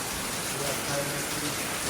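Heavy rain pours down at night in a steady, dense hiss, close and continuous throughout, with no pauses.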